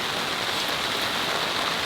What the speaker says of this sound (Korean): 빗소리 들으면서.